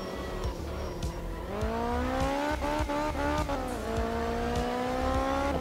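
A rally car engine in the racing game Art of Rally revs hard and steadily, its pitch climbing through several gear changes, with short tire squeals and skids, loud and close with no voices.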